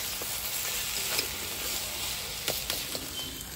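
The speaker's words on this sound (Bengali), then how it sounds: "এবার নামিয়ে নিলাম আমার শাক ভাজা।" Leafy greens (saak) fry in a pan with a steady, soft sizzle, broken now and then by brief stirring scrapes and crackles, heard alone and fairly close.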